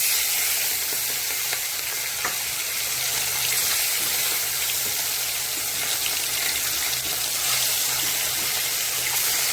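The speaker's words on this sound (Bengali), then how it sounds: "এখন মাছটা ভাজা বসাবো" Catla fish rubbed with salt and turmeric sizzles steadily in hot oil in a pan, a continuous close crackling hiss with no talk.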